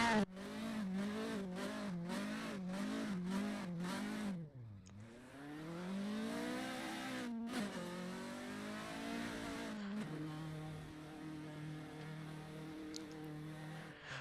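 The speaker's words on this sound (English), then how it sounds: "Ryan Cole is currently doing donuts." A Toyota Altezza race car doing donuts at Laguna Seca, its engine revving hard in rapid pulses, then droning and sweeping up and down in pitch with tire squeal, close and loud throughout.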